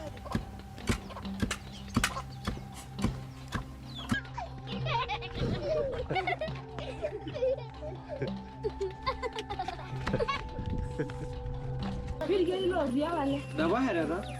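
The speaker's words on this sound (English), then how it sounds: "So these are the goats, and this is where they sleep." Goats bleat in the goat yard of a Maasai village, several wavering calls near and far, mixed with hoof clatter, children's voices and people talking throughout.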